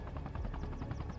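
A helicopter's rotor thump chops rapidly and evenly, steady and fairly faint throughout, in the video game ArmA Reforger.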